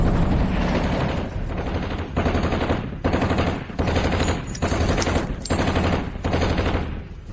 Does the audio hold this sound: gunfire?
yes